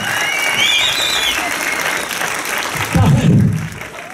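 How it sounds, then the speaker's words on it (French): Audience applause at a wedding ceremony in Tarbes, a moderate burst of clapping with crowd noise and a low rumble near the end. "Applaudissements."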